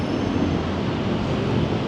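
Steady broadband rumble and roar of a double-decker electric train passing close by, continuous and even throughout.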